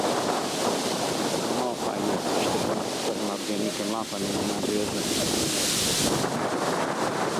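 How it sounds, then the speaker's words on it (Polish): Strong wind buffets a microphone outdoors with a continuous roaring, rumbling rush, loud and unsteady, while someone speaks Polish under the noise. "tak to wygląda u mnie przy takim wietrze silnym"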